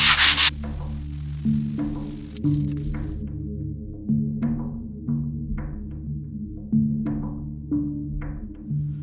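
Repeated rhythmic rubbing strokes scrub stubborn paint off carved foam, close and steady with a soft scratchy texture, over a constant low hum in the background.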